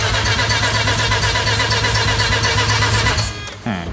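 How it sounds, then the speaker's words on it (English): Mazda RX-7 rotary engine cranking over, a steady rapid mechanical chug with starter whine held loud and close for over three seconds, then cutting out into a brief quieter tail. "Cranking."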